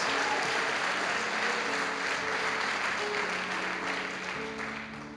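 Sustained applause from a church congregation praising God, a broad continuous roar of clapping with some tonal crowd sound or music underneath, slowly fading at the end.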